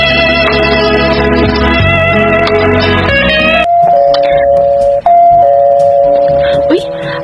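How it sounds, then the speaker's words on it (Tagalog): A doorbell chime rings out loudly with a ringing tone, repeated, over a background of music. "Uy, may nag-doorbell man."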